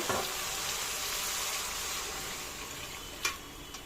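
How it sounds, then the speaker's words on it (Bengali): Warm water poured into a pan of sizzling spice paste for fish omelette curry gives a steady broad hiss and bubbling, with a sharp splash or clatter near the end. "এখন আমি এখানে দিয়ে দেব আগে থেকে একটু উষ্ণ গরম জল করে রেখেছিলাম, সেই জলটাই এখন দিয়ে দেব।"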